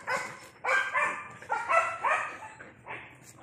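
A Malinois mother dog and a litter of Belgian Shepherd puppies bark close by in a quick series of sharp barks and higher yips, bursting and pausing irregularly, with no one speaking.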